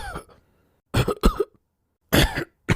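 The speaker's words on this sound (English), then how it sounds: "Now listen to these people coughing and clearing their throat and imitate them." Several people cough and clear their throats in separate bursts with silent gaps between, close and clear with no talking.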